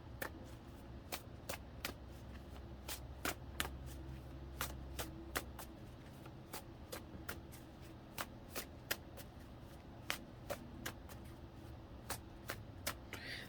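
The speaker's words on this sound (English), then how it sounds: "I'm gonna cut and draw" A tarot deck is shuffled and cut close by, a steady run of quick, crisp card flicks and riffles at a fairly even rhythm, soft overall with no voices.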